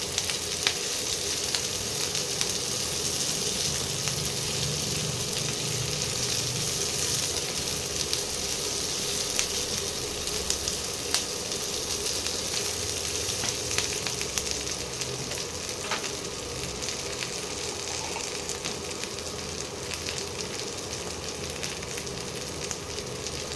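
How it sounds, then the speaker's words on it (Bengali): Whole spices such as cardamom, cinnamon and cloves frying in oil in a pan for egg curry, a continuous even sizzle with occasional crackles, close and steady throughout. "এবারে এগুলোকে ভালো করে একটু ভাজা ভাজা করে নিতে হবে"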